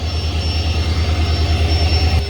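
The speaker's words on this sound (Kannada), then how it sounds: "ಆದರೂ ನಮ್ಮ ಟ್ರೈನ್ಗೆ ಡೀಸೆಲ್ ಇಂಜಿನ್ ಜೊತೆ ಓಡಿಸ್ತಾ ಇದ್ದಾರೆ" Diesel locomotive engine, a WDP 4D, hauling a passenger train on the Talaguppa to Shivamogga line, a loud steady throbbing drone with a pulsing low rumble and a faint high whine, close and continuous.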